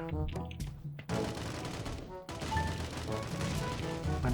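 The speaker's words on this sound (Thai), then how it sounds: "ปาระเบิดไปก่อนนะครับ" A loud grenade explosion bursts in the video game Sausage Man, followed by a second blast and continuous rattling gunfire and chaotic combat noise.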